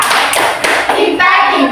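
Elementary schoolchildren at SDN 10 Simeulu perform the tepuk cinta clapping chant in class, with loud, close bursts of hand claps in a quick pattern mixed with their chanting voices.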